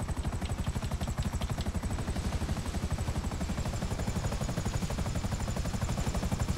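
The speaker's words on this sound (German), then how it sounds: "Gut, dann muss ich jetzt mal ein Heli da vorne irgendwo landen." Game helicopter landing in GTA V: steady, rapid rotor thumping with a whining turbine above it, loud and close throughout.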